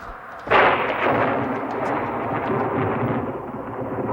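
Thunder on a stormy night cracks suddenly and loudly, then rumbles on in a long, heavy roll that slowly fades, with no voices.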